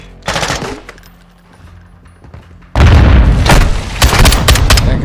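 Grenade blasts and automatic gunfire during a prison-break campaign mission in Modern Warfare 2, set in Mexico: a loud burst, then a quieter lull, then an intense sustained barrage of booming shots and rapid fire, all very close.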